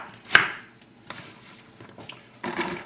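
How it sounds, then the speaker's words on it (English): Carrots chopped with a knife on a board, a sharp close chop followed by a few softer, irregular cuts and a quick flurry near the end, with no talk. "The carrots are cut like this."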